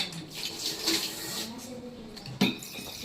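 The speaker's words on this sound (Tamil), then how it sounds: "கொஞ்சம் தண்ணி கூட இந்த தோசை சட்டியில் விட்டு" Water poured into a hot dosa pan on a high-flame stove while cooking veg biryani, giving a soft hiss and splash with a sharper burst near the end, close and moderately loud.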